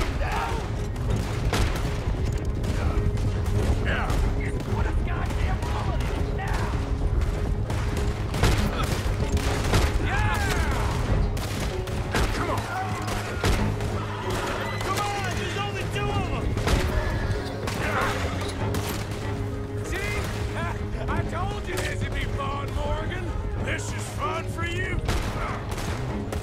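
Gunfire erupts during a stagecoach robbery in the Western video game Red Dead Redemption 2, with dense, sustained volleys of shots and booms running throughout over a constant game soundscape, while voices shout beneath the shooting.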